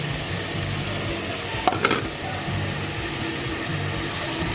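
Pieces of karaili (bitter gourd) sizzle in a pot over low heat, a steady close hiss with a couple of brief clinks partway through.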